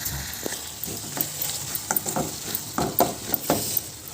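Tomatoes sizzle in a hot pan with ginger paste for a soya chunk and egg curry, a steady close frying hiss broken by repeated stirring scrapes and taps, with no talk.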